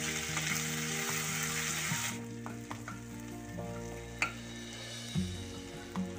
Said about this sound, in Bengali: আদা আর রসুনটা দিয়ে কাঁচা গন্ধটা না যাওয়া অবধি ভালো করে কষিয়ে নেব।